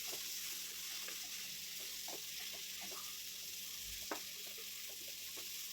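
Ginger garlic paste fries in oil for chicken biriyani and is stirred in, giving a steady, soft sizzling hiss with a few small scrapes and taps.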